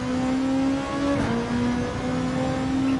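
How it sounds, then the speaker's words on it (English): A Ford GT race car engine in a racing video game holds a steady, loud droning whine close by, with a slight rise in pitch partway through. "I can hear another car breathing on me. It's that Ford GT."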